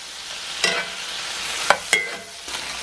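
Green peppers, jalapenos and diced cherry tomatoes are stirred in a sizzling pan. Three or four sharp scrapes and clacks of the utensil sound close over a soft, steady frying hiss.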